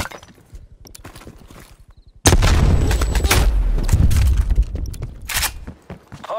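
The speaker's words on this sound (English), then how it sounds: "Incoming frag grenade." Frag grenade blast in Call of Duty Black Ops Cold War, a sudden heavy boom that cuts in after quieter gunplay and rumbles on for a couple of seconds before fading under continued fire.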